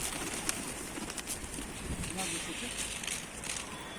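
Soft cooing of a Mardin show pigeon repeats under a noisy outdoor background, with people talking nearby.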